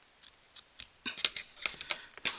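Scissors snip through felt craft material in a run of quick, crisp blade closes, sparse at first and then faster, close and clear.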